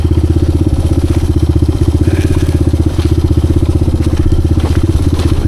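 A 1986 XR200R motorcycle engine, just after its idle problem was fixed, throbs loudly and close by in a steady, rapid pulse with a slight rise and fall, with no talk over it.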